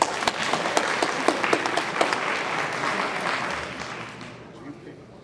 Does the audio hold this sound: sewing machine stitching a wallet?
no